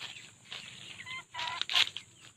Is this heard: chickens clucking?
yes